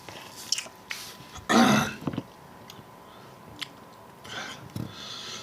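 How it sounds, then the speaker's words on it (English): One man coughs and clears his throat, with a loud harsh cough near the middle and softer throat noises around it, otherwise quiet and without talk. "I don't know why I can't stop coughing."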